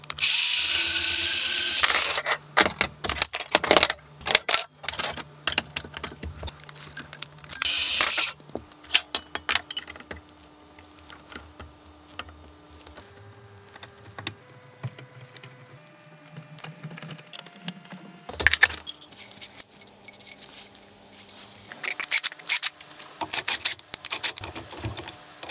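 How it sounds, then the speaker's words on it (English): Metal rods cut from floor tom drum legs being sawn and tapped on a workbench, with harsh bursts of cutting noise, ratcheting clicks and intermittent tool whirring, loud and close, with no talking. "I'm now going to cut and tap the metal rods, which happen to be legs from a floor tom drum."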